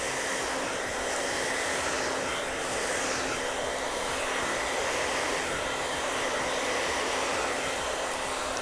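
A hair dryer runs throughout a salon blow dry, giving a loud, steady, close-up airy roar with a constant motor hum and no talk.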